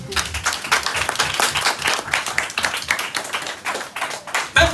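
A church congregation applauds loudly and steadily, a dense wash of many hands clapping without pause, swelling slightly toward the end.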